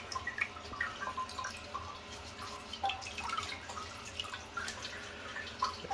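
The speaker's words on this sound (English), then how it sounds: "rinse this off one more time." Water rinsing a toilet bowl during cleaning, a soft continuous splashing and trickling with small drips and spatters, fairly quiet and close.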